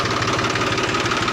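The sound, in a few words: tractor engine idling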